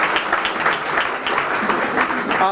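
Brief, dense applause from a crowd at a mayor's re-election campaign announcement, clapping for a judge, steady and fairly close for a couple of seconds.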